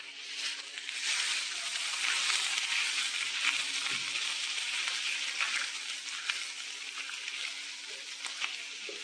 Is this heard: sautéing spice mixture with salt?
yes